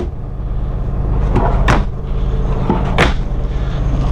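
Big storage drawers slide open inside a pre-owned 2018 Tiffin Allegro Red 37PA motorhome, two distinct sliding rumbles close by over a steady low background hum.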